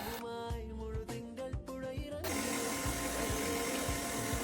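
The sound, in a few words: electric mixer beating red velvet cupcake batter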